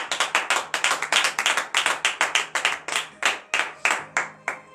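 A church congregation at morning prayer claps in acclamation, a series of sharp, loud bursts of many hands striking together in a brisk, somewhat uneven rhythm, with brief gaps between bursts.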